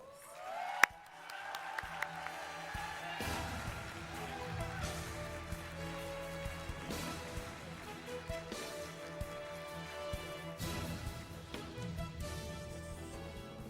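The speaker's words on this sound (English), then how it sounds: "Please give Champ a big round of applause." Sustained applause from a gala and awards audience, steady clapping filling the space with a dense, even wash of hand claps, some louder claps standing out.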